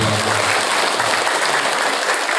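Dense, steady applause from a gathering of parents at an Islamic boarding school in Serang, Banten, filling the whole stretch loudly and evenly without a break.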